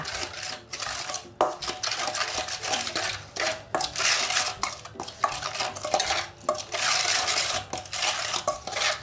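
A spoon stirs and scrapes inside a bowl, mixing a Thai Chinese sausage salad dressing with sugar and chopped chili, giving close, rapid clinks and rattling strokes in uneven bursts.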